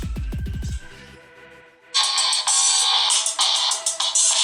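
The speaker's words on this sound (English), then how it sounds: "Let me quickly play an audio track for you to show you how good the music playback quality of this phone is" A Samsung Galaxy J5 plays a music track through its rear speakerphone, bright and loud after a brief spoken lead-in and pause, continuing steadily to the end.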